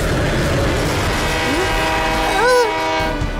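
A cartoon train pulls away with a loud, close rumble and a steady run of wheels on track, and a short, rising horn blast sounds near the end.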